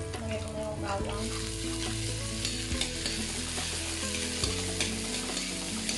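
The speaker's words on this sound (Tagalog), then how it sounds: "igisa lang natin yung sibuyas. Lagay ko na yung bawang" Onion and garlic sauté in a pan for a tuna steak dish, a bright constant sizzle with several sharp clanks and scrapes of a spatula against the pan, close and loud, with no speech.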